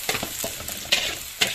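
Shallots and garlic drop into hot oil over a high flame for a stir-fry of corn and water spinach, giving a close, crackling sizzle broken by a few sharp stirring scrapes.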